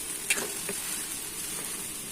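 Bruised galangal dropped into a hot pan for bamboo-shoot vegetable curry, a sharp sizzle burst followed by a steady, softer frying hiss with a faint stir or two; no talking.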